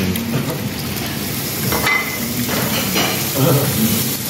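Egg omelette of plain egg frying in a pan in a hotel kitchen, a steady close sizzle running throughout with occasional stirring and scraping, a few faint voices in the background.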